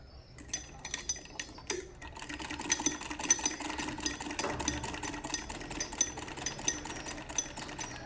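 A sewing machine stitches pleats into cloth for a belted shalwar, a steady mechanical whirr with light clinks and rattles running throughout, close and moderately loud, with no voices.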